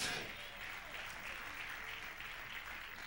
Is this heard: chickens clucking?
no